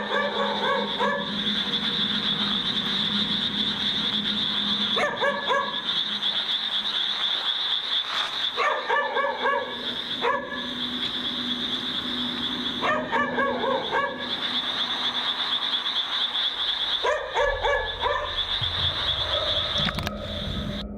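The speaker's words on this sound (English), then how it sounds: "he decides to film as he searches for the barking dog" A dog barks in short bursts in a graveyard at night, heard at a distance over a steady, loud high-pitched drone of frogs or insects, with faint rustling between barks.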